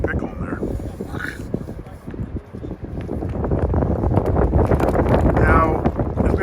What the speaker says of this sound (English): it's always windy in San Francisco, so it's always windy in Daly City